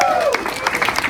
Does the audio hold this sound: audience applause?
yes